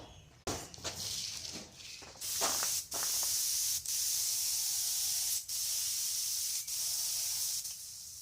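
A sprayer gives a steady, loud spray that hisses continuously after a brief start, broken by several short pauses where the stream cuts off and resumes.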